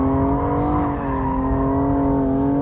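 A BMW M235i at full throttle holds a loud, sustained, steady engine roar with tire squeal while drifting in oversteer, heard close and continuous.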